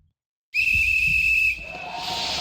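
A shrill steam-style whistle blows in the video game Reverse 1999, a loud, steady high tone held for about a second before fading into a breathy hiss that lingers to the end.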